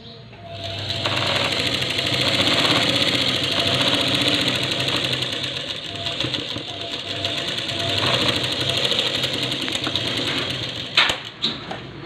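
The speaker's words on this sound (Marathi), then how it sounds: "बरोबर ठेवायची आणि कडेकडेने शिलाई मारून घ्यायची।" A sewing machine stitches along the edges of a blouse cover, a loud, steady, rapid mechanical whir that runs almost throughout and stops with a few clicks near the end.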